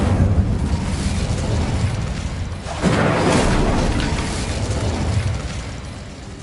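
Incendio, a fire spell in Hogwarts Legacy, is cast with a loud, roaring burst of flame that rumbles steadily and then surges again partway through before easing off. No talking is heard.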